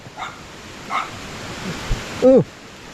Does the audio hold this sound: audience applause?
no